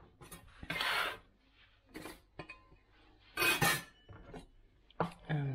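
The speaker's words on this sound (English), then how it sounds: "And I'll just give that a quick peel." Fresh ginger being peeled during Sunday meal prep, a series of short scraping strokes with gaps between, close and fairly clear, with faint clinks of kitchenware.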